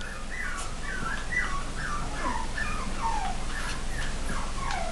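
Puppies whimper and yelp in a steady string of high, sliding cries, close and fairly loud over a constant low background hum, with no talking.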